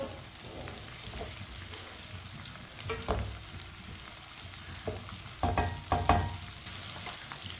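Tomatoes and carrots fry in a pan with a steady sizzle while a spoon stirs them, scraping and knocking against the pan in several short bursts; no voices.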